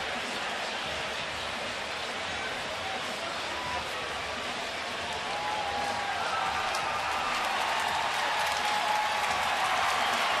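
Baseball crowd at a Boston at Baltimore game cheers and applauds fans running on the field, a broad steady roar of clapping and voices that swells slightly toward the end.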